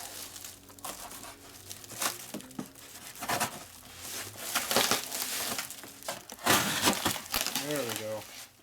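Cardboard of a priority mailbox crinkling, tearing and crushing as it is cut open, with irregular loud rips and rustles close by while someone talks throughout.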